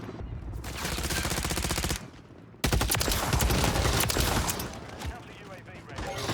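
SOA Subverter battle rifle in a video game firing in rapid sustained bursts, a loud dense rattle of shots broken by a short pause before resuming, with a voice talking over the gunfire.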